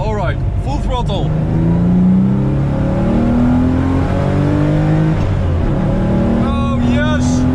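A 1986 Porsche 911 Elmerhaus widebody engine is taken to full throttle from the driver's seat, a loud, rising roar that climbs through the revs with a shift, while a voice exclaims over it.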